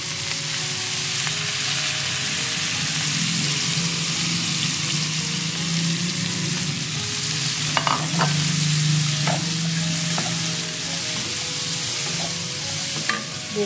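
Green beans stir-fried with shrimp and chili in a home kitchen pan, a steady loud sizzle with occasional stirring scrapes and clinks, no talking.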